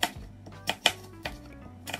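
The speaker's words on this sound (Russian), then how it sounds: "Нарезаю одно яблоко." An apple being sliced with a knife for a fruit dessert, a few sharp separate cuts and taps against the board, quiet and close with no talking.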